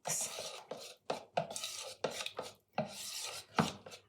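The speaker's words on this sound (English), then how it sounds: "Give that a little mix." Brownie batter with vanilla paste being mixed in a bowl, heard as close, scraping and rubbing strokes in short bursts separated by brief silent pauses.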